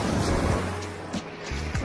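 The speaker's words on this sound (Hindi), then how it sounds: "और ये लहरों का शोर।" Ocean waves roll and wash onto the sand at Yarada beach in Vizag, a broad, continuous rushing surf with a few surges, loud and close with no voices over it.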